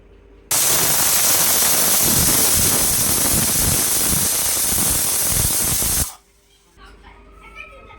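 A loud, steady hiss of steam from a pressure cooker whistle, cooking beetroot stir-fry on a low flame, blasts for about five seconds, then cuts off, leaving quiet kitchen sounds.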